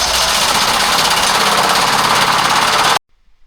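A homemade dirt shaker screen with a heavier counterweight bar welded on its side runs with a loud, steady rattling mechanical drone, then cuts off abruptly, leaving near silence.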